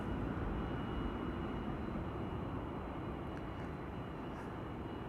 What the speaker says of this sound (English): Pilatus PC-12 having arrived here on runway 22.